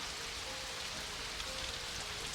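Steady rain patters on a door or nearby surface, an even, continuous hiss of drops at low volume with no voices and no break in the rhythm.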